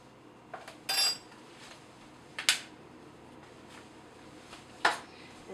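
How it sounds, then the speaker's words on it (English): A metal measuring spoon scoops dry playdough ingredients, giving a few sharp, bright clinks and scrapes spaced a second or two apart over a quiet background hum. "I'm going to measure out 2 level teaspoons"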